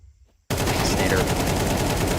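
A MAC-10 submachine gun in Counter-Strike 2 bursts in after a short quiet moment with rapid, loud, continuous automatic fire, under faint caster talk.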